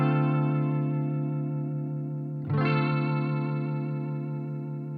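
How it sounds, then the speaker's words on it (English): Electric guitar through a Maestro chorus pedal with depth at half, a sustained chord shimmering with a gentle warble, then restruck midway and ringing on steadily, played alone. "Here's what the depth control does. It will actually make that chorusing warble that you hear go much deeper."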